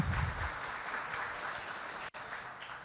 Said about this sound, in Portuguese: a quem peço uma calorosa palmas para recebê-lo